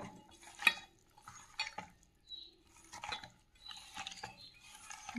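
Lote fish being mixed by hand with mustard oil, soft wet squelching and slapping in short irregular bursts separated by quiet gaps, close and faint.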